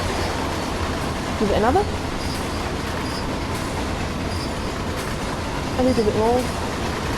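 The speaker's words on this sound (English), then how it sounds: "Really long freight train passing." A DB BR 155 electric locomotive in Train Sim World hauls a long freight train with a steady rumble of rail noise and two brief wheel squeals, while someone talks over it.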